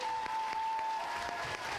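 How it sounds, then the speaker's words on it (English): A convention crowd at a fan expo panel applauds the panelists, a sustained even roar of many hands clapping with a faint steady tone running under the first half. "Please give a round of applause for Emily Andras, Varun Saranga, Dominique Provost-Chalkley, and Catherine Burrell."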